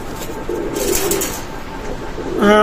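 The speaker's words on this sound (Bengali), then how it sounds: "এক জোড়া কবুতর আছে" Pigeons coo in soft, low repeated calls amid a busy background, with a voice speaking briefly near the end.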